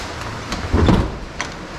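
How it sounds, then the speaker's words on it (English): The door of a neglected 1973 Lotus Europa, found in poor condition, is pulled open with a short mechanical clunk and scrape. A brief thud follows, then a lighter click, all heard close up. "Open the door."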